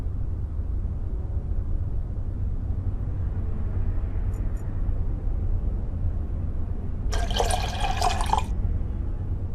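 Diluted photographic developer poured into a darkroom dish in a video game, a short bright splashing pour of about a second near the end, over a steady low background hum with a faint brief tick earlier.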